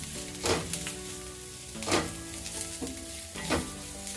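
A spoon stirs garam masala and coriander powder into cabbage fried rice in a hot pan: three scraping strokes over a steady sizzle, with music playing underneath.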